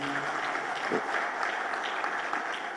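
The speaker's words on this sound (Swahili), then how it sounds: "Tuongeze tena makofi mengi." Sustained applause from the audience at a Tanzanian book launch attended by the President, a dense steady patter of many hands filling the room for the whole stretch.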